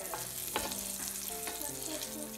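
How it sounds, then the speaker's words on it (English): Butter and oil heating in a pan, a steady soft sizzle with faint clinks and scrapes over a constant background hum, close and fairly quiet, no voices. "Start by melting butter and oil in a pan."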